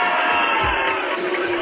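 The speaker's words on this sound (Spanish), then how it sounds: "¡Un aplauso para Pamela!" A crowd cheers and applauds for a contestant named Pamela at a 2002 Britney Spears radio event in Mexico, a dense, steady wash of noise that fills the whole moment.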